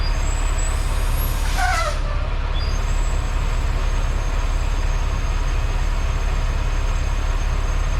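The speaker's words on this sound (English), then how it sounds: "every time I step on my brakes, I be losing a lot of air." Compressed air hisses steadily from a broken airline on a Tesla truck's air brakes, a loud continuous leak with a brief squealing burst partway through.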